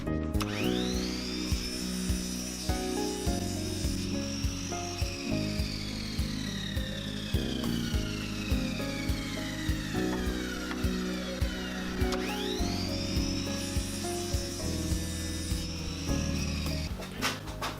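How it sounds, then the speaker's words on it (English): A miter saw cuts miters in maple, with the blade whining up, biting through the wood in a steady loud cut, then spinning down before a second cut repeats the pattern, close and continuous with no speech. "Okay, over to the miter saw to cut the miters."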